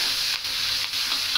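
Ingredients sautéed in oil for a vegetarian dalcha, a bright, dense close-up sizzle with two quick stirring scrapes.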